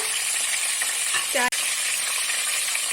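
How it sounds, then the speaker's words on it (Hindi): Steady hiss of chicken liver and gizzards frying in hot oil with garlic and vinegar over medium heat, with a brief metallic clink partway through. "अब हम कलेजी पोटों को लहसुन और सिरके के साथ दरमियानी आंच पे फ्राई कर लेंगे"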